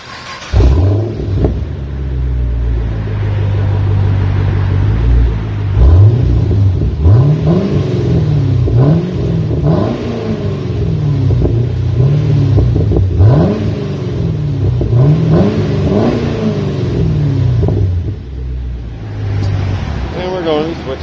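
A 2013 Chevy Camaro SS V8 with a Borla S-type exhaust, converters and an X pipe revs repeatedly, loud and close, with deep rises and falls in engine pitch and a steady idle rumble between blips.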